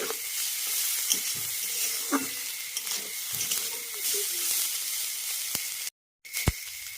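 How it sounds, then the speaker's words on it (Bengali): Small pond fish frying with onion in a pan, a loud continuous sizzle with occasional scrapes and taps as the pieces are stirred and turned, then a brief dropout before the frying resumes. "দুই পিঠ উল্টে পাল্টে খুব ভালোভাবে এখন নেড়ে চেড়ে ভেজে নিয়েছি"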